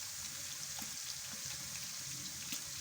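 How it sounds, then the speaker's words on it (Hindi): Garlic sizzles steadily in a hot pan with browned onions for mutton pulao, a soft, continuous frying hiss with faint crackles and no talking. "मैं इसके अंदर लहसुन डालने लगी हूँ।"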